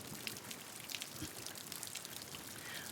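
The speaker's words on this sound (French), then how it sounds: "avec le son de la pluie" Soft, steady rainfall patters continuously in a gentle hiss of drops, faint and even throughout with no voices.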